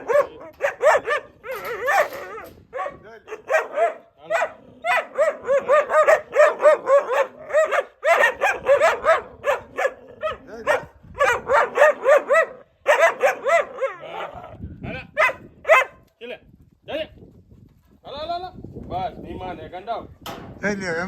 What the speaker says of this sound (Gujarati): એક કૂતરી ને કૂતરા જોઈ લે.